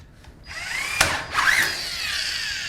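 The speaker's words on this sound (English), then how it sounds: "I can now secure by using 2 wafer head screws." A power drill drives wafer head screws to secure a table leg, a steady whining motor run with a sharp bite near the start and a rising pitch sweep midway, close and loud, no talk.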